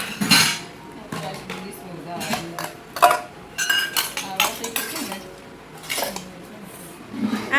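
Small metal and ceramic dishes and utensils for drinking soda clink and clatter in irregular bursts as they are unpacked from boxes, close by, with a voice talking between the clatters.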